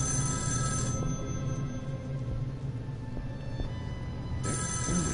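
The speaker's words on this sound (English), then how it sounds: "Phone rings." A telephone rings in the video game Erica, a steady electronic bell tone sounding in two bursts at the start and end, with a quieter, low ambient game score humming between them.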